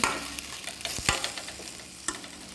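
Masala curry cooking in a pan is stirred, with a soft, steady sizzle and a few clear scraping clinks of the spoon close up. No one speaks.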